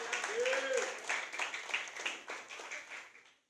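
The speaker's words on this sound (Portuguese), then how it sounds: "uma salva de palmas aí" Church congregation applauding during a New Year's Eve service, a fairly dense round of clapping that fades out toward the end, with voices over it.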